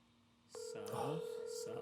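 Telephone call tones play while waiting for an answer, steady ringback-style tones starting partway through, with faint voices talking underneath.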